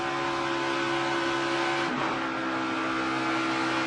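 A NASCAR Sprint Cup race car at speed on the Michigan oval during practice, its engine a loud, steady high-pitched roar with a slight dip in the middle as it moves along the track.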